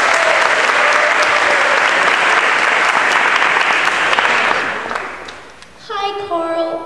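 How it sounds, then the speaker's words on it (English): A studio audience breaks into loud, sustained applause that fills the scene for about five seconds, then fades before a voice begins speaking over the tail end. "let's give her a big round of applause"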